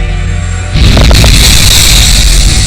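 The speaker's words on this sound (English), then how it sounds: "It's going to be a gigantic explosion and blindingly brilliant and far brighter than the sun." An asteroid impact explosion rendered as a sudden loud boom that breaks in partway through and swells into a dense, roaring rumble, sustained and overwhelming with deep bass.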